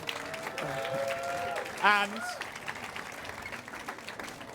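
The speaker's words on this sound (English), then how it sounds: "Can we get a huge round of applause for everyone?" Applause from a crowd gathered at a steak tasting event, a continuous rustle of clapping with a voice briefly speaking over it before the clapping fades lower.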